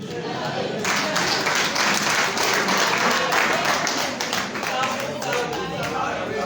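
A school event audience claps for a student, dense steady applause rising quickly and holding for several seconds, fairly close and loud.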